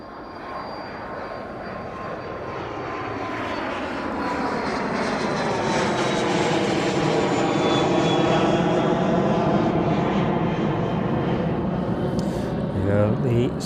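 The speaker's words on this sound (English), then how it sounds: "The Citation making its way out of East Midlands this evening" A Cessna Citation business jet takes off from East Midlands. The engine roar swells steadily, peaks loud with shifting whine tones, then holds and slowly eases as the jet moves away.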